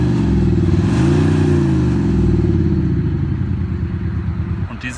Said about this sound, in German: Dies ist der Fahrzeugklang mit aktiviertem Active Sound System von Insight Performance.